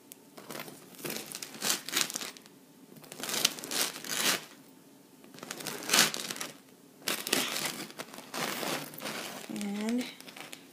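A knife saws through a crusty sourdough loaf in repeated loud bursts of crackling, crunching crust, close up with short pauses between strokes.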